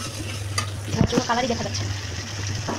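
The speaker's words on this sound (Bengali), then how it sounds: "তো মূলা এই যে কষাচ্ছি" Radish sautés in a pan with a soft, steady sizzle, broken by a few clinks and scrapes of stirring while someone speaks over it.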